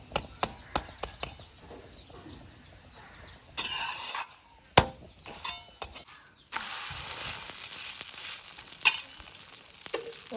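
Egg kothu fries in a pan with a steady sizzle, broken by spatula scrapes, a run of quick taps at the start and louder bursts of frying as the food is turned.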